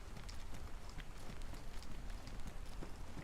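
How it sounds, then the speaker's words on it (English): Steady rain in DayZ, set in the Livonia map: a faint, continuous patter and hiss with scattered soft droplet ticks, even and unbroken, with no voices. "The rain noise is just constantly creeping me out."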